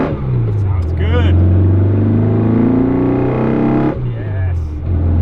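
Engine of a lowered VW Beetle 1303 RS while driving, a loud close drone that rises and falls through gear changes, with a voice talking over it.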